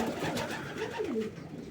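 Marbled homing pigeons cooing close by, a few soft low throaty coos rising and falling over about two seconds, no voices.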